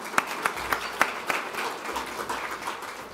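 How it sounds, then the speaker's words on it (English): Applause from an audience at the Women in Community Life Awards 2023, a steady crowd patter with a few sharper, louder claps standing out near the start, moderately distant and continuing evenly throughout. "round of applause for that one"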